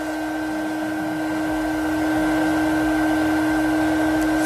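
Mini 300W hot air heat gun blowing on heat shrink, a steady close-up whoosh of fan-driven air with a constant motor hum that swells slightly and holds without pause.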